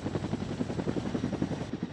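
A Chinook twin-rotor military helicopter flies steadily, its deep rhythmic blade thumping pulsing rapidly and continuously over a broad engine roar, fairly loud and without talk.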